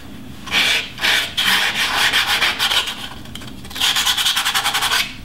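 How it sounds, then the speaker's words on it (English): Walnut is sanded by hand in rapid back-and-forth rubbing strokes, close and steady, with a brief pause midway. "I'm just going to start sanding it"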